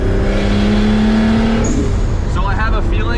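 A JZ-engined Nissan S13 coupe on full boost is driven hard, its engine droning loudly from inside the cabin with a rising pitch, while someone talks over the noise.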